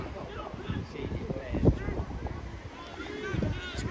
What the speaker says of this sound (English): It's a windy one, isn't it?